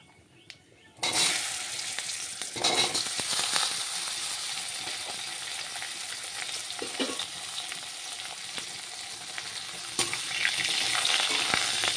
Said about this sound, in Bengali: এবারে আলু ভেজে নিতে হবে।